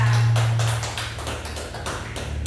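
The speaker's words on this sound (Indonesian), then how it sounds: "Berikan aplaus kepada Aura" A classroom of students claps for a classmate: a dense burst of applause that starts strong and gradually thins over a couple of seconds.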